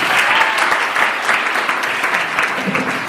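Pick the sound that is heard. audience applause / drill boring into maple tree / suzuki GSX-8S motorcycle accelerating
audience applause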